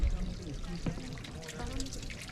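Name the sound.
water flowing in small aqueduct at Machu Picchu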